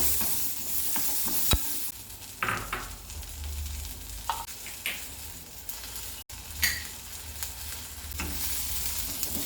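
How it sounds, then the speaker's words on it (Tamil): Small onions, tomato and garlic sizzle and fry steadily in a pan for a spicy tamarind curry, with repeated stirring scrapes and clinks of a spoon breaking through the continuous crackle, close and alone. "வெங்காயத்தோடு நல்லா வதங்கட்டும்."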